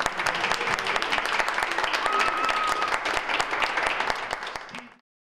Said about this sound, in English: giving our esteemed panel a round of applause